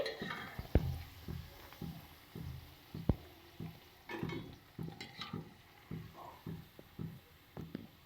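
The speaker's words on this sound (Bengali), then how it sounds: "আমরা বাকি বড়াগুলোও ভেজে নিচ্ছি" Masoor dal fritters frying in oil, a quiet bubbling sizzle under repeated clattering taps and scrapes of a utensil turning them, fairly faint and irregular.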